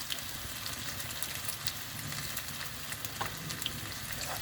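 Asafoetida goes into hot oil with softened onion and garlic for a Tamil fish kuzhambu, giving a steady, dense sizzle of frying throughout, with a few faint clinks and no talking.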